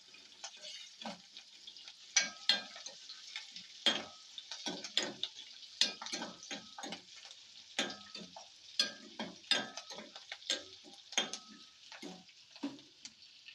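Sparse crackles and popping ticks of spices frying in a pan over low heat, irregular and close, set against a faint steady hiss.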